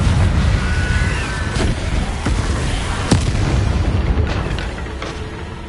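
A Confringo fire spell blasts in Hogwarts Legacy, a loud booming explosion with crackling bursts that roll out into a sustained rumbling roar.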